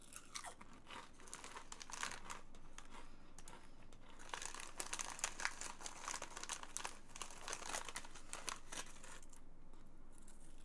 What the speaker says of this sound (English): Just the noises of everyone's stuff rustling.